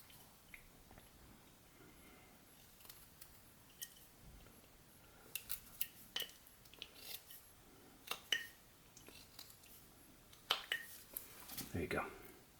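Knife whittling a small wood figure, making close, crisp slicing scrapes in scattered short bursts that grow busier toward the end, with someone speaking over parts of it.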